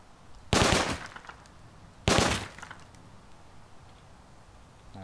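Two separate short, sharp bursts of automatic gunfire in the video game Rust, a couple of seconds apart, loud against quiet background ambience.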